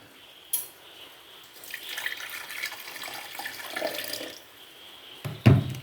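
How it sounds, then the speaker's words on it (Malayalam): Water streams into a mixer jar while a banana and passion fruit smoothie is being made, a soft continuous pour with faint splashing, ending in a sharper knock of the jar. "എന്നിട്ട് നമുക്ക് കുറച്ച് വെള്ളം ഒഴിച്ചു കൊടുക്കാം."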